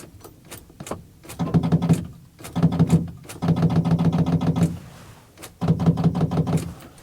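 Ford 7.3L IDI diesel V8 in an OBS one-ton dually, with no working glow plugs, as the starter tries to crank it: several bursts of rapid chugging starter cranking separated by short pauses, close and loud, never catching.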